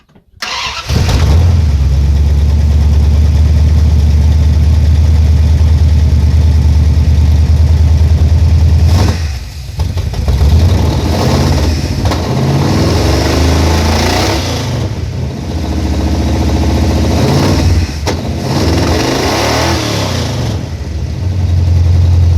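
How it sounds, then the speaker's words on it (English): A 1973 Dodge Charger's 361 Mopar big-block engine with 440 Source heads cranks and catches, then runs loudly and steadily close by, its low rumble rising and dipping a few times as it revs. "as you guys saw, the engine now runs"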